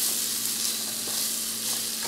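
Egg fried rice with vegetables, pepper and salt being stirred in a pan, a steady soft sizzle with faint scraping throughout, close and continuous, no voices.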